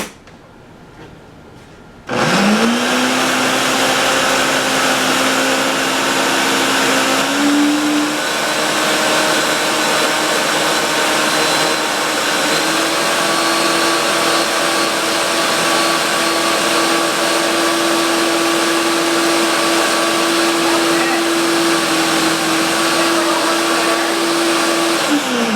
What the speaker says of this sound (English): and continue to blend